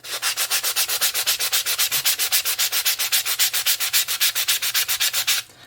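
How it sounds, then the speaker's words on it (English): Rapid, even back-and-forth strokes sanding paint off coasters, loud and close, dozens in a steady rhythm before stopping abruptly; no voices. "so I'm just going to sand these off a little bit"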